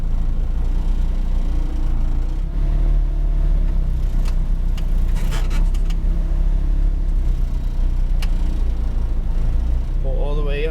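McLaren 570S GT4 race car idling and pulling forward in first gear, a deep continuous engine rumble close by with a voice talking over it.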